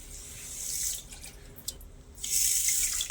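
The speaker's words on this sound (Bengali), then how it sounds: "তিনটে এলাচ একটু ফাটিয়ে দিয়ে দেব আর দেড় কাপ দিয়ে দেব জল" Water poured from a cup onto sugar and cracked cardamom pods to make syrup: a steady, close splashing stream that pauses briefly in the middle and then resumes just as strongly.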